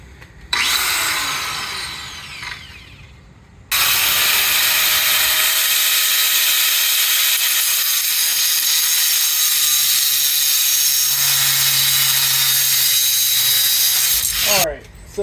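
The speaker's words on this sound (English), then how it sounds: "We'll lay it here on the cutting table and we'll give her a cut." A power saw cuts wood for shelving on a cutting table, with a brief spin-up, then a long steady high-pitched whine as the blade runs through the board, loud and close, winding down at the end.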